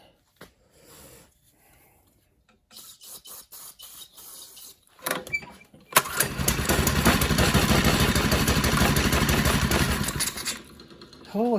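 An old junk-pile mini bike engine sputters with a few attempts, then catches and runs in a loud, steady rattling drone for several seconds before dropping back, with a voice talking nearby.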